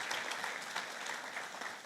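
A hall audience at a taxpayer appreciation awards ceremony in Swakopmund, Namibia, claps for ministry staff, sustained moderately distant applause throughout.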